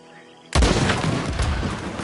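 Gunfire erupts in Red Dead Redemption 2: after a quiet half second, a sudden loud blast gives way to a dense, sustained barrage of shots and booms.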